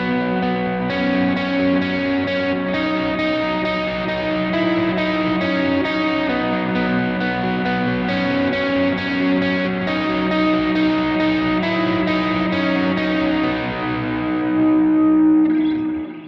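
An electric guitar plays a sustained, ringing worship part with light overdrive and a repeating delay trail plus light reverb, then the notes fade out at the end.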